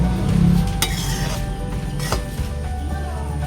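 Rice upma (pachari uppumavu) being stirred in a pan, a spoon scraping and clinking against the metal over a low sizzle, close and without talk.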